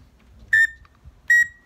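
A man whistles two short, high, clear notes about a second apart, imitating a male teal duck's whistle, with a faint low rumble underneath.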